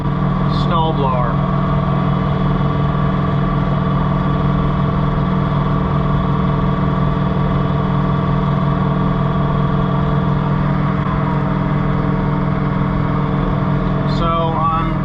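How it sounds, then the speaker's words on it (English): A John Deere 3046R compact tractor with a mounted snowblower runs steadily and loud throughout, a constant engine drone with a couple of brief squeaky sounds near the start and end, without talk. "it is an extremely well-built snowblower."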